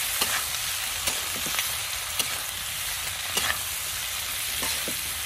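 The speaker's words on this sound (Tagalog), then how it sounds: "Lagyan natin ating hipon. Igisa-gisa lang natin siya." Shrimp sautéing in a hot pan give off a steady, dense sizzle, with occasional scrapes and taps of a utensil stirring through it.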